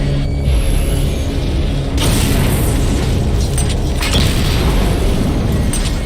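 Targets blow up in Batman Arkham Knight, a loud, dense roar of overlapping explosions and booming rumble with mechanical clanks layered through, sustained without pause.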